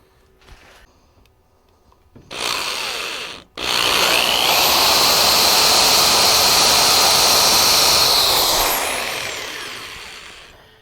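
A power drill bores part way into wood while a coin pusher cabinet is built, a brief burst followed by a sustained, loud grinding run that briefly cuts out before continuing steadily and winding down.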